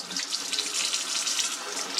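Cold water runs steadily from a tap to wash down a Berkey water filter, a continuous close hiss and splash with no pauses.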